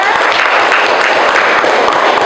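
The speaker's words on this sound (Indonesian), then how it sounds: "tepuk tangan untuk kita semuanya" Audience applause at a school class presentation on flora and fauna conservation, a steady dense wash of clapping filling the room at close range, loud and continuous without pauses.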